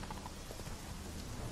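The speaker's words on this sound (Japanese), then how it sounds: "雨がすごい。" Heavy rain in The Witcher 3, a dense, steady hiss of downpour, faint but continuous and alone throughout.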